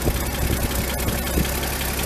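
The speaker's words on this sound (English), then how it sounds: "It's running, it's on an idle." A car engine idling close by, warmed up to thermostat-opening temperature, giving a steady, even rumble with a faint rhythmic pulse and no talk over it.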